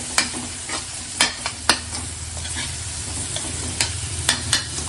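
Chopped tomato sautéing in spiced oil over a medium flame for Maharashtrian shev bhaji, a steady close sizzle with several sharp spoon clacks against the pan as it is stirred, no voices.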